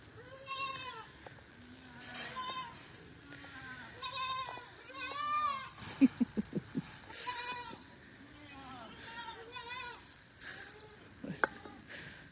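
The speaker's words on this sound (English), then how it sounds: "Who knew Nick was going to be a goat mummy" Several goats bleat repeatedly in wavering, overlapping calls at moderate distance, with a short burst of rapid clicking knocks in the middle and a sharp tap near the end.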